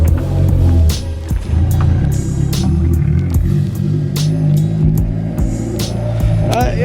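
A Honda S2000 fitted with a test pipe exhaust revs loudly up close, producing raw rumbling bursts and repeated throttle blips.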